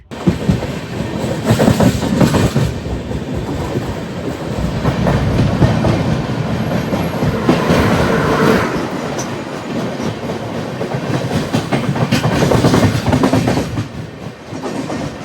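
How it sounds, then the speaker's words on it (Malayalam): A train rumbles past close by, heard from an AC 2-tier coach of the Brahmaputra Mail as it is overtaken by the Howrah–Barmer train, with rhythmic clickety-clack of wheels over rail joints, loud and sustained, swelling and fading as carriages pass. "നമ്മളേതോ വണ്ടിയൊക്കെ കയറി ഓവർടേക്ക് അടിക്കുന്നുണ്ടല്ലേ"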